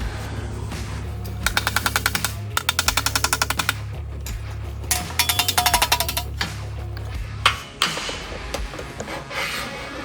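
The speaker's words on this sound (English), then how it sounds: "I'm going to grind just a little bit more on that" A grinder works on a thin, rusted steel body panel from a 1923 Model T, cutting in bursts of rapid rasping pulses separated by brief pauses, loud and close, then a clatter and quieter handling at the end.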